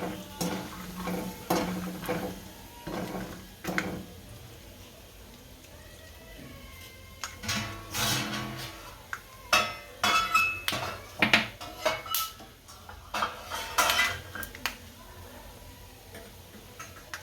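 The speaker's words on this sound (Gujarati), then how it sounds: "આને સારી રીતના શેકાઈ લેવાના, હાલા લાલ થઈ જાય ત્યાં સુધી શેકી લેવાના" Peanuts tossed and stirred in hot oil in a pan, giving a run of close, irregular ticking and clinking scrapes of utensil against metal, busier toward the end.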